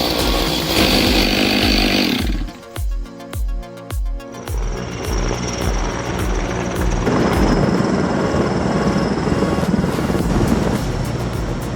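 Two big chainsaws, a Stihl MS 661 and a Stihl MS 500i, cutting through a 3.3-foot log: a loud, continuous engine drone with revving bursts that stays near and dominant throughout.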